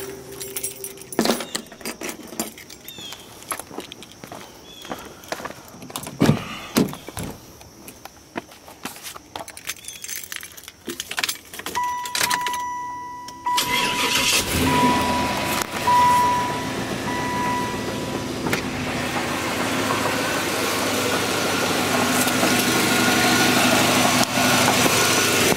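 Keys jangle and clink in irregular bursts, then a car engine cranks and catches, settling into a continuous running hum that grows gradually louder and stays steady to the end.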